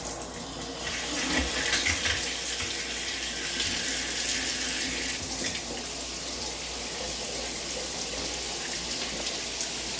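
A new plastic shower head sprays water in a steady, loud hiss that runs without a break the whole time, with no voices.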